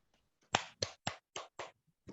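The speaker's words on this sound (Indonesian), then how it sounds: "Tepuk tangan buat Wade Indriati" A classroom gives brief applause, five or six distinct claps spaced evenly and then a last faint one, fairly close and alone.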